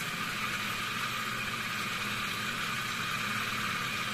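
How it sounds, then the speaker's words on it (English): A homemade solenoid reciprocating engine running at 1000 rpm on 20 volts and 3 amps gives a steady, even buzzing whir that holds at one level throughout, close by and with no talking. "The engine now is provided with 20 volts and 3 ampere current. It is running at 1000 rpm now."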